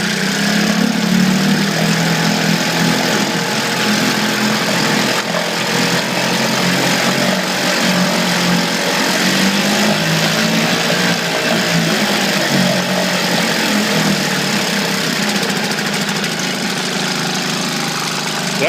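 A Johnson 2 hp outboard motor runs continuously at high but not full throttle, a loud, steady droning buzz with a slight rough pulse, close and alone with no voices.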